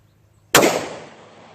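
One close, sharp report from a Glock 30 Gen4 pistol fitted with a ZEV Race Connector, fired at an indoor or outdoor range, cracks out loud and trails off in a short decaying echo.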